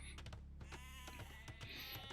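Sheep bleating in the Age of Empires video game, several short in-game bleats repeating over a steady low game soundtrack with clicks.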